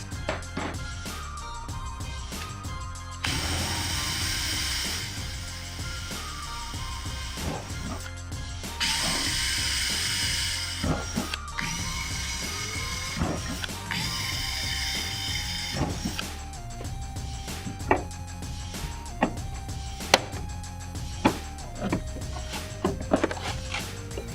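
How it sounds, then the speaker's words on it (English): A power drill whirs in several sustained bursts, boring holes for an intake install on a Honda NSX, with clicks and mechanical handling noises between runs. "we've drilled the holes, they fit"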